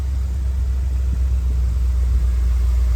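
Inside the cab of a Ford hauling a free 460, the engine rumbles with a deep, steady, loud drone while driving with the doghouse engine cover off, alone without talk.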